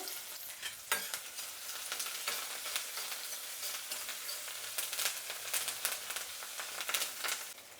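Mustard seeds, garlic, onions and curry leaves fry in oil in a pan, giving a close, steady sizzle broken by scraping stirs and occasional crackles.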